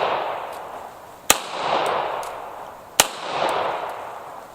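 Two sharp gunshots during outdoor target shooting at a paper bullseye, fired about two seconds apart, each a loud crack followed by a short echoing decay, with no talking.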